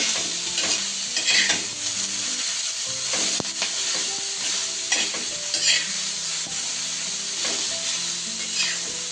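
Black masala roasting in oil for a mutton curry, with steady close sizzling and frying hiss, broken by repeated scraping stirs of a spoon in the pan throughout, no talk.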